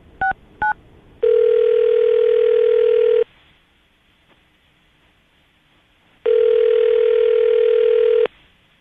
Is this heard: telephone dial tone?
yes